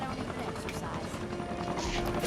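A helicopter in The Incredibles game drones steadily with a whirring, buzzing hum, and other game action clatters on over it.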